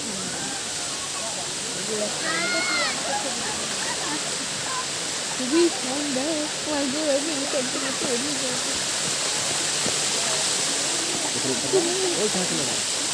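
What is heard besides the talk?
cold water flowing in a mountain stream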